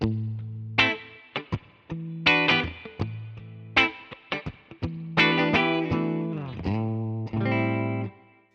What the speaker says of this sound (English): Then prepared effects, like on the real amp, some spring reverb.